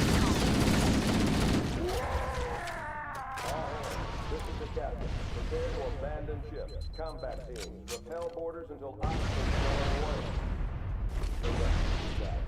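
Bursts of assault rifle fire from the Halo video game ring out amid game explosions and a dense battle soundscape, loud and continuous, while someone talks over it.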